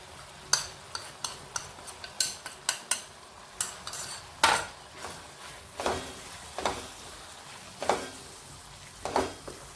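A spoon scrapes and knocks repeatedly against a pan while ground sesame, niger seed and peanut masala is stirred in oil with cooked tomatoes, irregular sharp clinks over a low background sizzle, close by with no voices.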